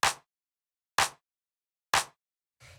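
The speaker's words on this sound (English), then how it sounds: "After that, we have the clap, which sounds like this." Punchy Romanian minimal house clap sample struck three times at an even one-second pace, each hit sharp, bright and short, dry and alone, with a low thump entering at the end.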